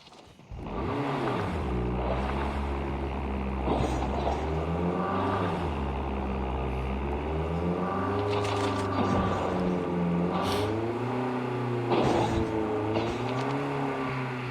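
A vehicle engine in Call of Duty Mobile drones steadily throughout, rising and falling in pitch as it drives, loud and close with no pauses.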